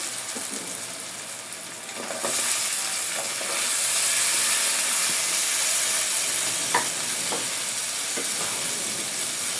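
Shrimp and potato pieces fry in a pan with a steady, close sizzle that swells a little louder partway through, with faint stirring scrapes over it.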